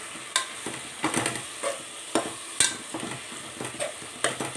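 Spices being stirred into chicken pulao with tomato and onion in an oily pan, heard as repeated scraping strokes over a soft sizzle, close and rhythmic with no talking.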